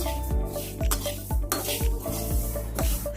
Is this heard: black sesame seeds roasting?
yes